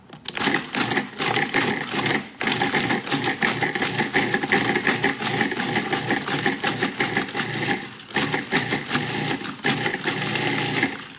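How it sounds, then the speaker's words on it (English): Food processor running hard, a loud continuous whirring grind with rattling chops, broken by a couple of brief pauses as if pulsed. "Food processor is a must."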